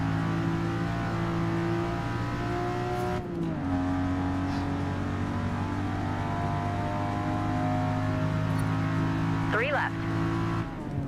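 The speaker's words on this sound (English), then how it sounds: "And the throaty V6 or throaty 6-cylinder." A throaty inline six-cylinder car engine holds a steady drone while driving, with a brief dip in revs partway through and a short squeal near the end; a voice talks over it.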